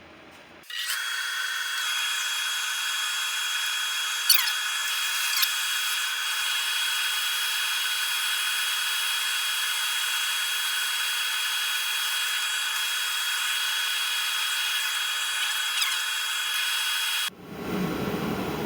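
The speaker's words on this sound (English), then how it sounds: "let's get some sanding done then" A power sander whirs continuously against chestnut oak for most of the clip, a steady high-pitched drone with a few small scraping changes, starting and stopping abruptly.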